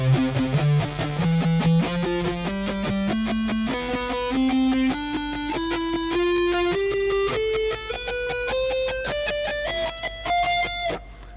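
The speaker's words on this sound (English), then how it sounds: "if I was to play proper ghost muting, it should sound and look like this" Electric guitar plays clean single notes with ghost muting, a steady run of picked notes climbing gradually in pitch, each note distinct and crisp with the other strings kept silent, no talking.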